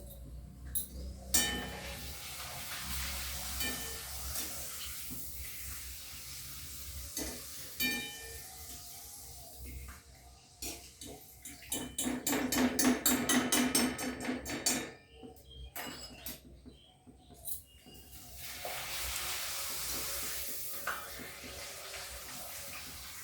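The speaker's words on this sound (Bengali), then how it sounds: "দুটো পাঁপড় ভেজে দেবো" Two papads fry in a pan, giving bursts of crackling sizzle that swell loudly in the middle and rise again near the end. Utensils clink and knock between the bursts, and there is no talking.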